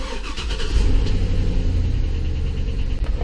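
A GMC Denali truck engine turns over and settles into a loud, steady running rumble close by, with no talking.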